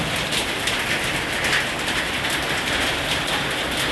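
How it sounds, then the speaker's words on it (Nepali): Steady heavy patter of large hailstones pounding a surface during a hailstorm in Birtamod, dense and continuous with no voices. "कत्रो कत्रो ठुलो असिना आइरहेको छ"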